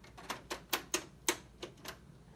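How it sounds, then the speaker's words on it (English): An old Brother word processor prints a line of letters with a series of sharp, close typewriter-like clacks at uneven intervals, some louder than others, with no voices. "It's printing every letter in existence."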